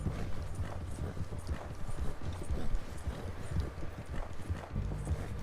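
Steady rhythmic clip-clop of horse hooves at a fast gait in the video game Red Dead Redemption, a continuous galloping beat with no talking on top.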